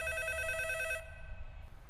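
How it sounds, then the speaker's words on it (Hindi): Telephone ringing in a room, a bright electronic ring tone sounding for about a second and then stopping, moderately loud with room hum after. "अभी फोन हमारे रूम में बज रहा है।"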